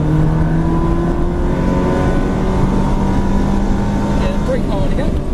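Sports car engine heard from inside the cabin, a loud steady drone that shifts and briefly rises toward the end as the driver brakes and drops one gear.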